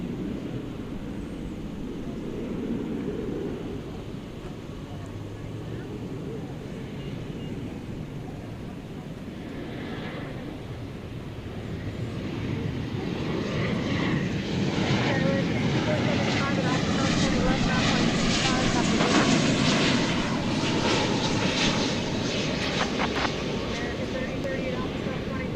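An airliner on the flight from Colorado Springs arrives at DFW Airport, its engine roar building gradually from a distant rumble to a louder, fuller sound near the end, with broadband rushing noise throughout.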